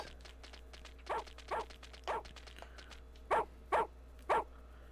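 A dog in the video game Xuan Yuan Sword 3: Mists Beyond the Mountains barks in a steady series of short, sharp yaps, three then a pause then three more, over a constant low hum.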